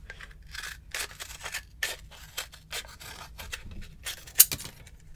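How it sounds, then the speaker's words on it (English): Repeated crisp snipping and rasping of scissors cutting the top off a cup, a steady series of close cuts with short pauses between. "take your scissors and you cut off the top part"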